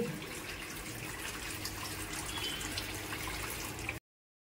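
Water running steadily as a cup of tea is set in water to cool, a continuous close splashing flow for about four seconds that then cuts off abruptly.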